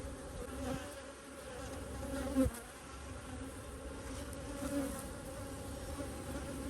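Honeybees in an early-spring hive frame, a steady close insect buzz with a few louder swells and no voices.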